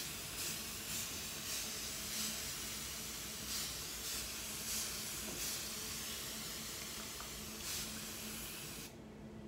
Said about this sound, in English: First things first, my handy dandy spray bottle of water.